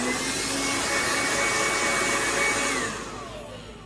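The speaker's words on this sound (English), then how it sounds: "Or you can use a blow dryer." A blow dryer runs steadily and loudly close by, drying a hand-built ceramic vase, its broad whooshing roar holding even for about three seconds before dropping in level near the end.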